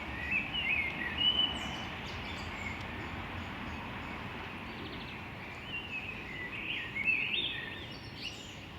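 Birds chirp and call intermittently in Planty park in Krakow, with brief trills standing out over a steady wash of city background noise, fairly faint and distant.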